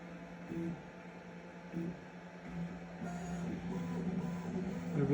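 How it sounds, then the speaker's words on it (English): 3D printer with a BTT Eddy probe probing the bed with its nozzle, a low motor hum with a few short whirring movements, faint and steady with no voices. "Now we are probing the bed"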